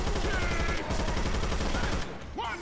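Rapid bursts of automatic gunfire in the zombie shooter Left 4 Dead 2, loud and dense near the player, with a voice calling out briefly near the end.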